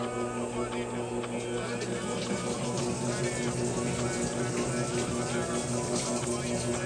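A Whirlpool 4.7 cu. ft. washing machine in its rinse cycle gives a steady, full rush of running water with a constant mechanical hum, continuous and even throughout.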